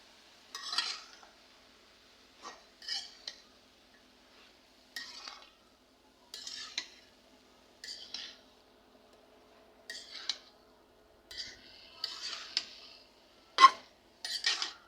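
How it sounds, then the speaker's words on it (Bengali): Utensil stirring and scraping in a pan while eggplant cooks with prawns, heard as short, intermittent bursts of clatter roughly every second or two, close and fairly clear, with quiet gaps between and no talking. "তো আজকে আমি চিংড়ি মাছ দিয়ে রান্না করতেছি"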